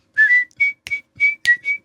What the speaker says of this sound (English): so break out the whistle